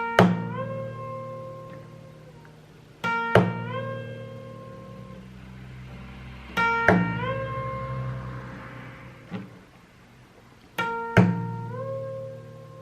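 Percussive acoustic guitar playing, with sharp body slaps landing about every three and a half seconds, each followed by ringing harmonic chords that sustain and fade, played alone and close.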